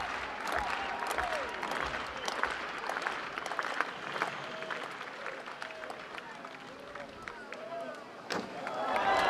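About 15,000 fans cheer at a Red Bull cliff diving event off a bridge in Mostar, a dense, continuous crowd roar with scattered claps and shouts that swells toward the end, with commentary over it.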